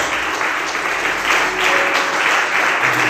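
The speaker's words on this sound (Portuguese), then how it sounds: "Quantos podem aplaudir e exaltar o nome do Senhor?" A church congregation applauds during a sermon, a loud, dense burst of many hands clapping together that holds steady for a few seconds.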